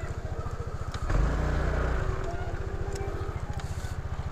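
A motorcycle engine runs at a steady, throbbing idle close to the rider's camera, continuous throughout, with voices talking over it.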